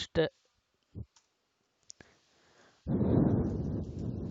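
A computer mouse clicks a few times, sharp isolated taps spread over the first two seconds, then a steady broad rushing noise takes over to the end.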